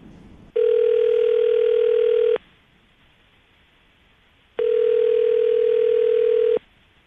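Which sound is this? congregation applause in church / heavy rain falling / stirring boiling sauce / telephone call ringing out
telephone call ringing out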